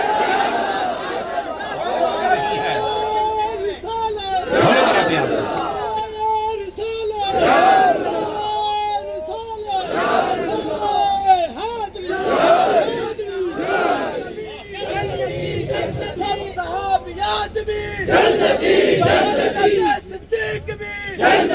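A large crowd at a religious gathering chants a long slogan in loud, rhythmic call-and-response bursts, with voices surging and dropping repeatedly and stretching on for many cycles.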